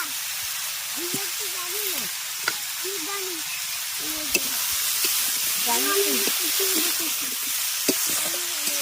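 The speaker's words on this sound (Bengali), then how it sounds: "প্রথমে এইভাবে দু মিনিট ভেজে নেব" Spices with salt, turmeric and chili powder sizzle in a hot pan with a soft, steady hiss and occasional crackles, while a voice hums or talks quietly over it.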